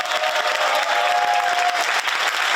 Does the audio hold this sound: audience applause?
yes